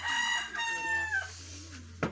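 A rooster crows once, loud and close by, in one long drawn-out call that fades. A short knock comes at the end.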